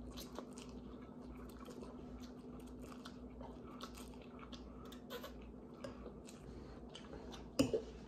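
Someone chews undercooked hot and spicy instant noodles, with soft, close, wet squishing and biting sounds repeating irregularly at low level, ending in a brief louder crunch-like knock.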